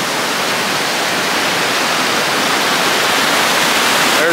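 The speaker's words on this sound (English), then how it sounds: "There's the waterfall." Steady, loud rush of a waterfall nearby, a dense unbroken roar of falling water that holds constant throughout.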